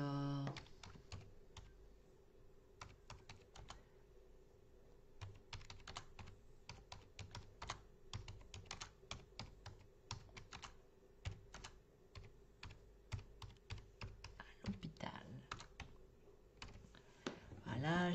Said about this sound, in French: Je vais tout de suite écrire un petit message.